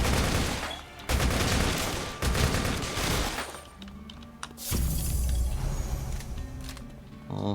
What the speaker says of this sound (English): Sounds like somebody's over here just shooting away.